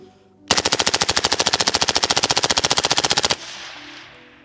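Full-auto mag dump from a CMMG Banshee in 4.6x30, a rapid, evenly spaced burst of about three seconds of loud close gunfire that stops abruptly, followed by a fading echo.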